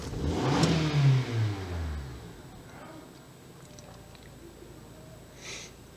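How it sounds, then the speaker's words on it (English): A 2003 Honda Accord engine revs sharply as the throttle is snapped open, rising and falling in a quick burst near the microphone, then settling back to a steady idle. "I'm just going to snap the throttle"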